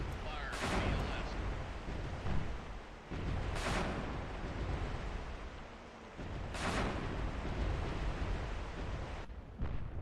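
Submarine vertical launch system missiles fired in the naval game Cold Waters, heard as heavy rumbling whooshes repeating roughly every three seconds over a continuous low roar.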